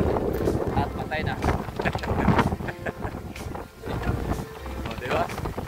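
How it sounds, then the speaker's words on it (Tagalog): Strong wind buffets and roars against the microphone in rough gusts at a beach in Puerto Princesa, Palawan, with a voice speaking intermittently beneath the noise. "Lakas ng hangin dito"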